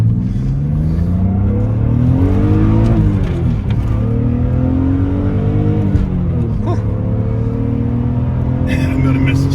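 A 1999 BMW Z3 M Coupe accelerates hard along a country road, its engine loud and close as revs climb, dip with gear changes and climb again, while people inside talk over it.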